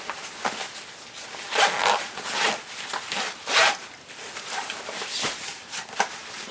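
A zipper on the middle pocket of a Kelty Redwing 3100 backpack is pulled in several quick, rasping strokes, close up and crisp, with short pauses between pulls.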